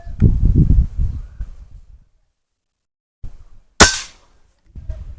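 A single sharp, loud crack from an SDB Sniper Nitro Piston air rifle fired outdoors while hunting doves, coming after a stretch of low rumbling and near silence, then quick faint rustling.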